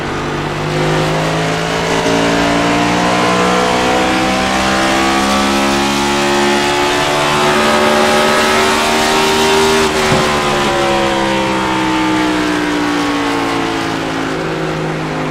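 Several race cars in a NextGen Series league race roar steadily around the track, their engines droning loud and continuous with pitch that rises and sweeps as they pass, one car's tone bending sharply near the middle.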